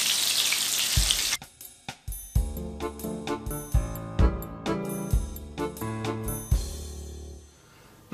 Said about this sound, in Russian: Как хорошо и удобно на чугунных сковородочках все жарить.